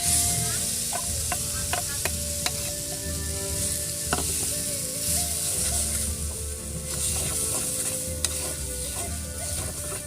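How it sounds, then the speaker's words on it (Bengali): Spices and a lentil-paste filling fry in oil, heard as a steady, close sizzle under occasional scraping and clinking stirs. "সমস্ত মশলাগুলো ভালো করে ভেজে নিয়ে এর মধ্যে ডালের পুরটা দিয়ে ভাজবো।"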